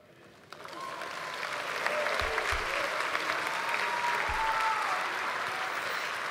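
A church congregation breaks into steady applause after a sermon, building within the first half second into a dense, sustained wash of clapping that stays fairly even, a few low thumps and some murmuring under it.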